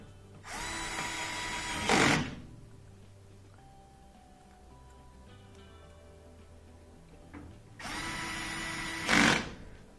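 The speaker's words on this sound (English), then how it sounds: "we're going to add those 3 screws on the back" A power drill or driver runs in two bursts, whirring up and stopping, while screws are driven into the back of a Whirlpool washer, with quieter handling noises in between and no talking.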